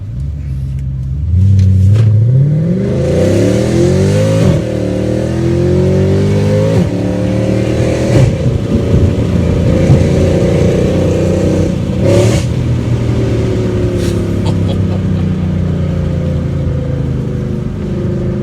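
A powerful Mercedes C63 AMG Renntech engine revs and accelerates hard on a mountain road, rising in pitch through the gears with loud, throaty rumbling and brief shifts, close and continuous.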